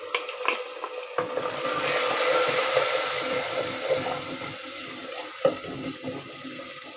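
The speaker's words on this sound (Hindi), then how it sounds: "बड़ा अच्छा माशाल्लाह मसाला भुन रहा है इसका।" Masala paste fries in a pan in a continuous close sizzle, with a scrape of stirring and occasional soft knocks as the spoon moves.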